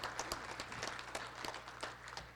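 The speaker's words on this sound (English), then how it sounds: "Let's give them a round of applause." An audience at a college State of the College address applauds with steady, faint clapping that lasts the whole moment.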